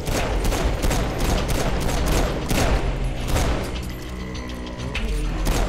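Bounce rifle fire in the video game Saints Row IV, repeated loud bursts of gunshots with crashes and booms, followed by a brief mechanical whirring passage before more shots.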